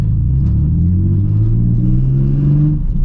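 A Nissan 350Z HR engine idles roughly in limp mode, a steady close low rumble with wavering, uneven pitch and no voices over it.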